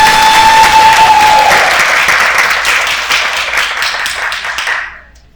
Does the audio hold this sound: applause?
yes